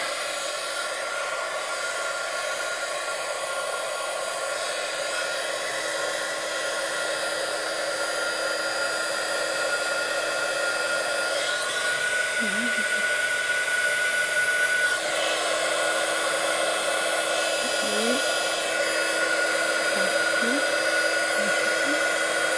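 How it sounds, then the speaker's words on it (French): A heat gun melts embossing powder on a handmade card, a steady faint whirring blow of hot air that holds for over twenty seconds, with a few small clicks and shifts in tone along the way. "je vais venir chauffer tout ça avec le pistolet chauffant"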